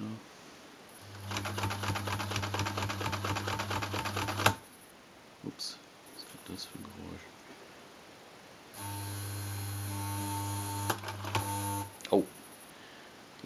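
A 1961 Ideal Super Automatik 685 sewing machine stitching leather runs in two bursts of fast, rhythmic mechanical clatter and motor whir, separated by a pause with scattered handling clicks.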